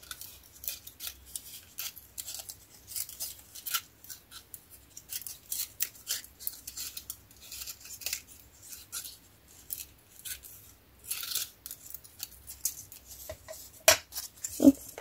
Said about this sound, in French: Alors, je vais couper tout autour